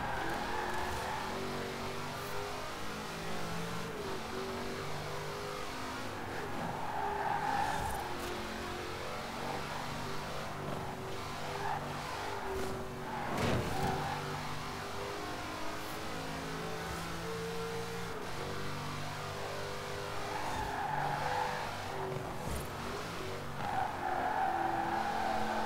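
Race car in Forza Horizon 4 racing a street marathon, its engine droning and revving steadily while tires skid and squeal through corners, loud and continuous with no talk.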